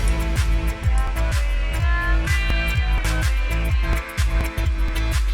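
Loud electronic dance music plays with a beat that stutters and lurches unevenly, the rhythm glitching and skipping as a VirtualDJ 2023 swing effect is altered mid-play.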